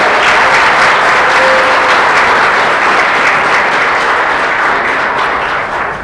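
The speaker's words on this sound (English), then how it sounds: "big round of applause" A large audience gives loud, dense, sustained applause for elementary, middle and high school students being honoured at a school board meeting, holding steady throughout and easing only slightly at the very end.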